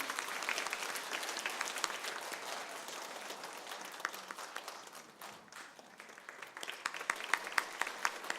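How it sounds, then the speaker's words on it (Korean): Church congregation at a Sunday worship service applauds in celebration, with many hands clapping in a steady, fairly distant patter and a few sharper individual claps standing out near the end. "크게 우리 축하 박수 한번 해주시기 바랍니다"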